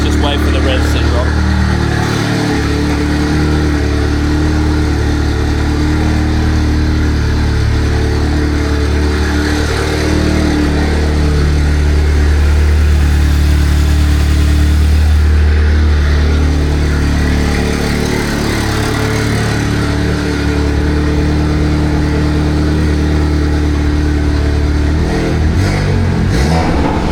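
A car with a freshly installed ARM Motorsport 4.5 exhaust downpipe holds a loud, elevated idle, its revs rising and settling back over a sustained engine drone, with a brief burst of revving near the end.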